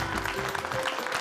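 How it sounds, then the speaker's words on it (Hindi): Dense, steady applause from a TV-drama audience greeting two prize winners at a stage event, a broad continuous wash of clapping with no gaps. "तालियां।"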